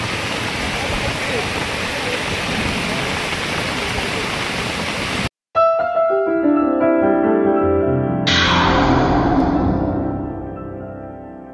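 Continuous heavy rain falling day and night in a village, a dense loud hiss for several seconds, then a brief break and a sustained tonal roar as the downpour continues.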